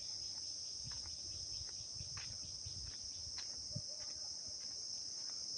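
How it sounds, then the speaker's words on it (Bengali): Crickets in the Sundarbans forest make a continuous high shrill drone, even and unbroken, with faint scattered clicks and rustles beneath it. "শুধু ঝিঝি পোকার আওয়াজ আর দুই দিকে বন আর বন।"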